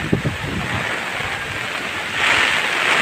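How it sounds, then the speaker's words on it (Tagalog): Strong typhoon wind from Typhoon Ulysses roars outdoors in a Montalban, Rizal subdivision, a loud, continuous rush with microphone buffeting. The wind swells louder toward the end. "Lakas pa yung hangin hanggang ngayon"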